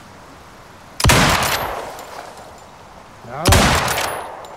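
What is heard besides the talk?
rifle gunfire from the video game Icarus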